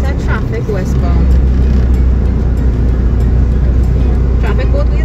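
Continuous roadside traffic flowing in both directions, a loud low rumble of passing cars with faint voices mixed underneath.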